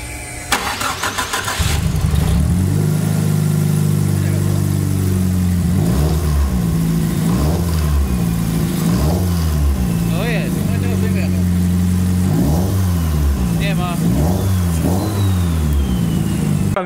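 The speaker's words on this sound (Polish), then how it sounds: "w momencie, kiedy dodajesz gazu, wydobywa się taki dziwny dźwięk z głowicy" A Nissan SR20 engine is revved repeatedly in short bursts from idle, each rise and fall clear and close, with a strange knocking from the cylinder head on throttle and people talking over it.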